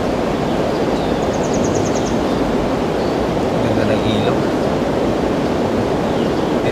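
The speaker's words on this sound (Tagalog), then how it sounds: "Ganda ng ilog." A river flows steadily past a motocamping spot, a continuous broadband rush of water with wind buffeting the microphone and faint bird chirps high above it.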